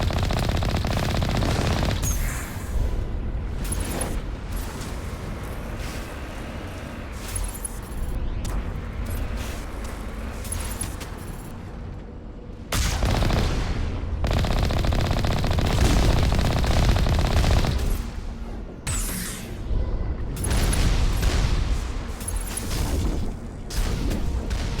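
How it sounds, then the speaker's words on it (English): Enemy gunfire in the video game Mass Effect aimed at the player: sustained loud bursts of automatic weapon fire with booming impacts, nearly continuous across the clip with brief lulls. "Are they shooting at me? They are."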